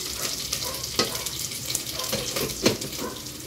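Garlic, onion and ginger sautéing for a milkfish dish, a steady broadband sizzle with occasional louder scrapes and clatters of a utensil against the pan, close and continuous with no talking.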